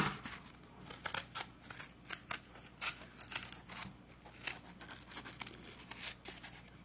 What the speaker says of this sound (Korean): 가위질 너무 잘한다